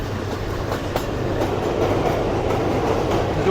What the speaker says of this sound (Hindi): इस ट्रेन हमारी इस वक्त दरिया रावी के ऊपर से गुजर रही है